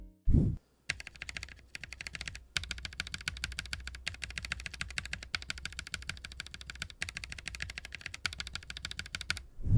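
Rapid, steady typing on a mechanical keyboard with Boba linear switches, dense clacky keystrokes with a deep tone, close up, broken by a couple of brief pauses.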